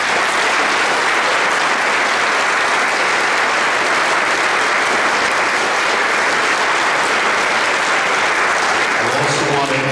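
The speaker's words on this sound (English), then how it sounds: "Let's give them all a round of applause." A church congregation applauds at a Catholic Mass of dedication, producing a dense, loud, sustained wash of clapping that fills the whole space evenly.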